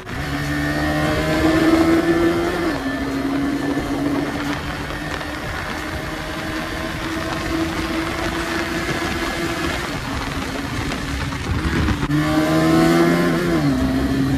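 A KTM Duke 250 motorcycle rides along a dry road, its engine droning steadily with rising and falling revs and wind rush, loud and close throughout.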